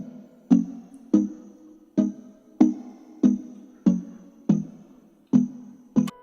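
Bell synth patch from Serum sounding chords in normal voicing: eight or nine evenly spaced, ringing strikes that each decay quickly, clear and unaccompanied.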